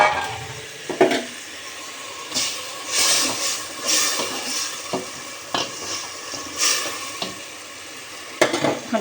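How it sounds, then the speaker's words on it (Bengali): A rohu fish head sautéing with spices in a pan, a steady sizzle broken by repeated scraping stirs and occasional knocks of a utensil against the pan, close by. "রুই মাছের মাথাটা দিয়ে কষিয়ে নিব কিছুক্ষণ"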